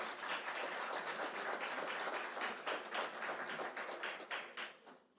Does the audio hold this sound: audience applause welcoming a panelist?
yes